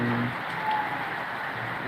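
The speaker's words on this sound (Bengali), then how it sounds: "জোরে বৃষ্টি হইতেছে বৃষ্টির পানি দেখা যাইতেছে" Heavy rain pours down in a steady, even hiss, a dense wash of falling water with no clear breaks, heard during a windy downpour.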